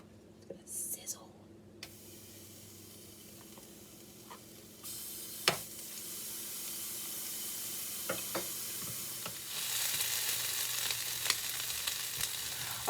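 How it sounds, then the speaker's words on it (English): Vegetables sizzle and crackle in hot sesame oil in a pot during a stir fry, a bright hissing that swells louder toward the end, with scattered clatter from stirring and soft whispery voice in places. "It's gonna sizzle."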